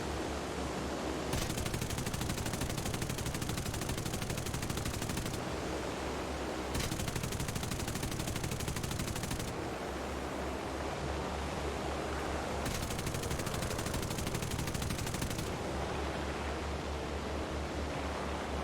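War Thunder aircraft gunfire, long rapid bursts of machine-gun fire in several stretches, separated by brief gaps, set against a constant roaring engine rush.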